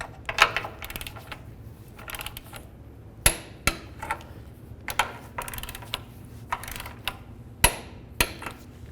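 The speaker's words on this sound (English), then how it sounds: "Now we'll torque these down to 76 foot-pounds." Torque wrench and ratchet tightening front lower control arm bolts on a 1998-2012 Ford Crown Victoria, a series of quiet, sharp metallic clicks and knocks spaced irregularly over faint background.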